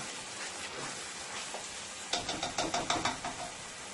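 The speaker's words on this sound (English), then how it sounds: "continue to let this fry for an additional 2 minutes" Crab curry ingredients frying in a pan with coconut milk spices, a soft sizzle underneath, then a quick run of close knocking or stirring taps against the pan, fairly quiet overall.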